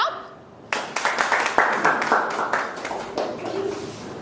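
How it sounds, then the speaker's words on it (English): A small audience breaks into clapping after a brief quiet moment, with sharp, uneven claps that come in a quick burst and then thin out over several seconds. "At least clap."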